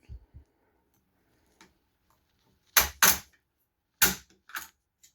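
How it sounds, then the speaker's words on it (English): Rifle rounds are pushed down into the magazine of a Mosin-Nagant 91/30, sharp metallic clicks and clacks in a few separated pairs, close and distinct against near silence. "What you want to do is you want to get leverage back here, and that's going to allow you to push the rounds down in."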